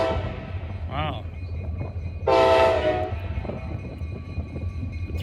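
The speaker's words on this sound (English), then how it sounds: "we have a light power move here, wheeling locos." Several locomotives on a light power move roll past near Greenwich, with a steady low rumble of engines and a loud, sustained horn blast in the middle. A brief higher tone sounds earlier.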